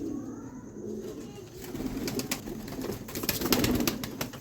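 Pigeons coo softly at close range amid rustling and shuffling, with some sharper scraping noises as the sounds grow busier.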